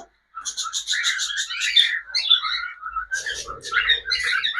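Pet cockatiels chirp in quick, bright bursts, several birds calling close by in rapid overlapping runs of sharp tweets after a short silent start.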